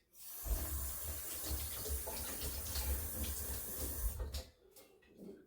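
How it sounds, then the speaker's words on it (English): Tap water runs steadily into a kitchen sink while hands are washed, a close, even rushing stream that cuts off near the end and is followed by a couple of soft knocks. "So I'm just going to quickly wash my hands."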